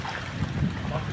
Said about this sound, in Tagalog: mahangin na naman ng malakas, oh